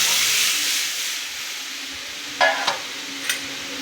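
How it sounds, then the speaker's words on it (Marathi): Vegetables fry in a hot pan with a constant close hiss and sizzle while a spoon stirs them, giving a few sharp scraping clinks near the end. "मस्तपैकी आपण अशी ढवळून घेऊया"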